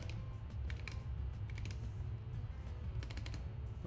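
Typing on a computer keyboard, quick clusters of light key clicks in short bursts over a steady low hum, close and fairly quiet.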